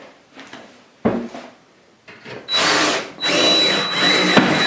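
Bursts of power drilling grind and whine as a deep hole is drilled for lag bolts to mount a shower grab bar, starting with short pulses and then running in two longer sustained stretches, loud and close.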